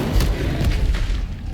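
An Incendio fire spell blast in the game Hogwarts Legacy gives a dense, rumbling burst of roaring flame that fills the brief moment at steady loudness and fades slightly at the end.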